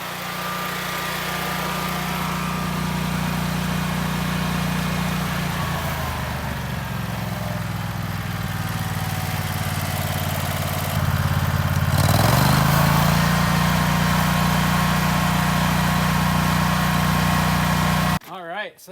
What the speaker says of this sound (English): I'm going to go turn on the idle switch and we'll see the engine idle down.